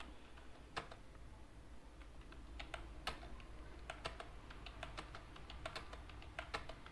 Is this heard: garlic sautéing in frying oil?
no